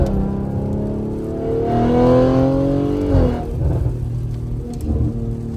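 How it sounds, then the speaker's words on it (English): A 2023 Audi RS5 fitted with 034 Motorsport downpipes and an AWE track exhaust revs loudly from close range. The engine note climbs through one long rising sweep, then drops back to a deep, rumbling idle. "All right, Nick, we're in the RS5. O34 downpipes paired with the AWE track exhaust."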